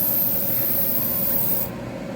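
A close, steady spray hiss of paint being sprayed that cuts off abruptly near the end, leaving a duller rushing sound.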